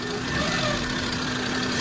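Engine of a 2013 Suzuki Alto 800 with a loose timing belt, a steady close mid-pitched running drone with faint rattling texture throughout, no voices.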